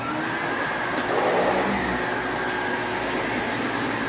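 A heavy Windsor Versamatic upright vacuum cleaner runs steadily at close range, a continuous broadband motor whir and airflow hiss holding a constant level throughout, with no talk over it.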